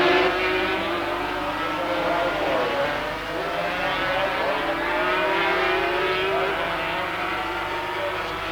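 A pack of 250cc Yamaha production motorcycles races past, a dense, continuous buzzing drone of high-revving engines with shifting pitches, heard steadily at moderate distance.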